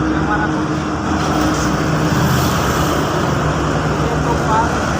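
Heavy goods trucks and other traffic rumble along the Jakarta-Cikampek toll road in the morning, a steady loud roadway drone with low engine hum throughout, with voices faintly present.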